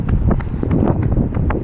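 Gusty wind roars and buffets the microphone during a run on a windy London day, with rhythmic footfalls thudding underneath the steady low rumble.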